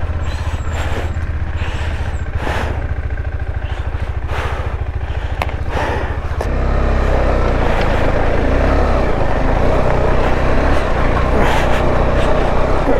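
A motorcycle engine labors up rough mountain terrain on the way from Lingti valley to Kaza, a throbbing close-up rumble with sharp bursts early on, then a louder, steadier drone as it climbs.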